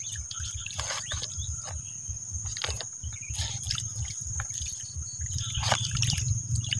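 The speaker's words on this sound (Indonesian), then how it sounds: "Siram pakai air." Water poured from a container onto soil and clay in a plant pot, a soft trickling and dribbling that runs steadily for several seconds alongside a constant high insect-like whine.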